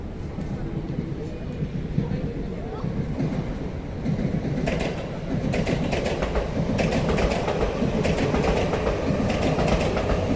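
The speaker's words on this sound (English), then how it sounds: "Yamanote Line train." A Yamanote Line train in Tokyo rumbles past nearby with a low, steady roar and rhythmic clatter of wheels on rails, growing louder, while people talk over it.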